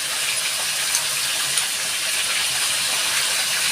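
Sour yogurt hits frying masala in a pan, setting off a loud, steady sizzle and hiss that holds evenly throughout, close and uninterrupted.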